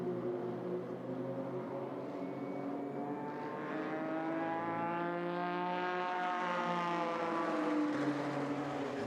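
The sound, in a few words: Toyota race car crossing the finish line during GT qualifying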